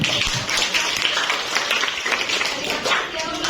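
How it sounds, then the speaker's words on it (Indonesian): Classroom clapping from a group of students after a physics problem is presented, a dense steady patter lasting the whole stretch, fairly loud and close, with some voices mixed in. "Tepuk tangan"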